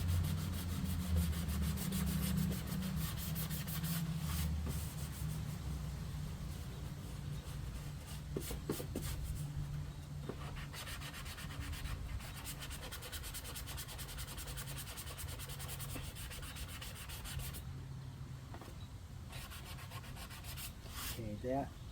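Hand sanding on the nose of a Blackjack 24 boat under repair, an 80 or 100 grit sanding block rubbing back and forth in steady, close, gritty strokes that continue throughout with brief pauses.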